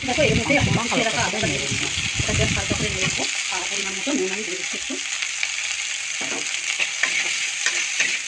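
Chicken pieces dropped onto soaked onions in a pan for momo filling, close stirring and sizzling with a voice talking over the first few seconds, then a quieter steady frying hiss with scattered scrapes.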